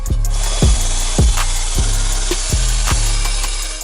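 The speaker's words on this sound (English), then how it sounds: "I'm going to use this wire brush drill bit to remove all the rust" A wire brush bit on a power drill scours rust off a metal license plate bracket, close and loud, with a rhythmic series of scraping strokes about every half second and a steady motor whir underneath.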